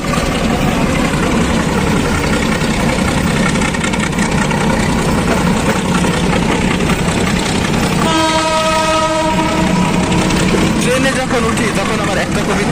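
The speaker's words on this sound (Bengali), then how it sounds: "এখন ট্রেনটি হচ্ছে নারায়ণগঞ্জের উদ্দেশ্যে ছুটে চলেছে" A Narayanganj commuter train runs on the rails with a loud, steady rumble and rattle from onboard, and a horn sounds partway through.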